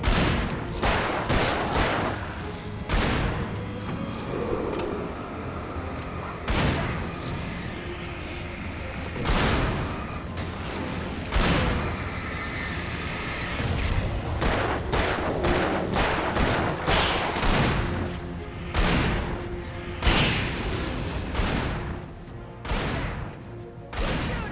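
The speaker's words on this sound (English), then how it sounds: "Shooting! Right there!" Gunfire in the survival horror game Alan Wake: repeated sharp shots and bursts crack over a dense, noisy backdrop of crashes and thuds, loud and near throughout.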